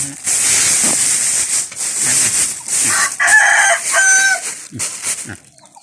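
A rooster crows loudly nearby amid steady hens clucking, with a hissing background and occasional voices underneath.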